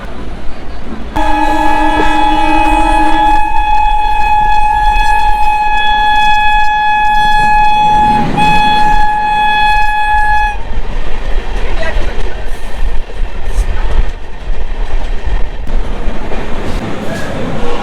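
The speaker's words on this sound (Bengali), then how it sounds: "আমাদের ট্রেন হচ্ছে 10 নম্বর প্ল্যাটফর্ম থেকে ছেড়ে দিল দীঘা যাওয়ার উদ্দেশ্যে।" A passenger train leaves platform 10 at a Kolkata station bound for Digha, its loud, close horn holding steady tones for about nine seconds before the rolling rumble of the carriages continues alone.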